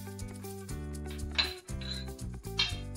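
A metal spoon clinks and taps against a steel pot or bowl several times while roasted cumin powder is added for aloo paratha filling, sharp close metallic rings in an irregular rhythm with no talking.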